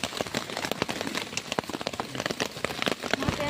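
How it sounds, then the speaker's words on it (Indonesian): Light drizzle falling on a mountain summit, a steady close patter of raindrops on surfaces with no talking. "kehujanan. Gerimis aja."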